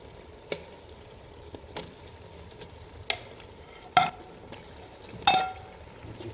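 Chicken pieces and chillies fry in a pan, a soft steady sizzle broken by sharp clatters and scrapes of stirring at irregular moments.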